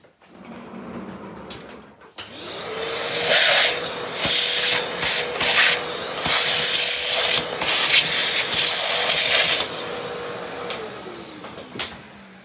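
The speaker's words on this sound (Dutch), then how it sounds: "pak even stofzuiger erbij" A vacuum cleaner switches on and runs steadily with a droning whine, interrupted by bursts of hissing suction and rattling debris, then powers down.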